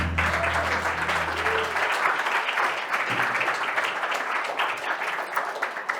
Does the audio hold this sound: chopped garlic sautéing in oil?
no